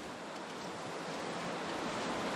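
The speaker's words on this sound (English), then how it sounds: "Still windy as hell." Strong wind gusting across a frigid snowy outdoor landscape in The Long Dark, a steady broadband rush that holds loud and unbroken throughout with no voices.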